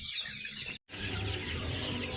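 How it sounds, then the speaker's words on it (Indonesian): Chickens clucking while scrambling for a small amount of feed, several birds calling close by with busy overlapping clucks, broken by a brief silent gap. "supaya ayamnya berebut makan"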